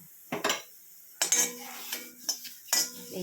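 Curry leaves dry-roast in a pan for a natural hair dye mix, marked by a few distinct metal spoon scrapes and clinks against the pan, spaced apart over a faint background hiss.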